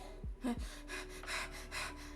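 A voice imitates the deep breathing a doctor asks for during a lung check: a few sharp inhaled gasps, then a long airy exhale in soft pulses, close and fairly quiet.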